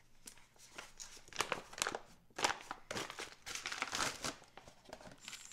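Plastic bag crinkling and crunching around a large block of shea butter, a busy run of close, loud rustles with irregular bursts and short pauses.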